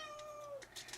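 A domestic cat meows once or twice in a short, drawn-out whine, close and fairly quiet, followed by a few soft rustles.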